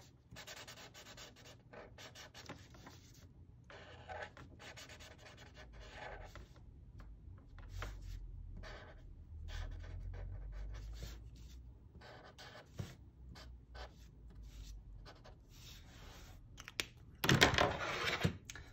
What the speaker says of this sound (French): Ce qu'on a fait au-dessus, on va colorier ça en rouge.